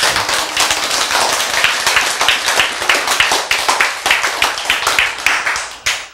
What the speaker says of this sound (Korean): 박수 한번 보낼 만 하지 않습니까?